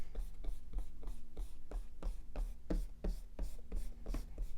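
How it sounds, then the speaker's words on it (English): Eraser rubbing over compass markings on paper while preparing a multi-colored spiral design, a steady run of short repeated back-and-forth scrubbing strokes, close and fairly quiet, with no talk. "I'm going to do my best to now erase these markings so they don't come up"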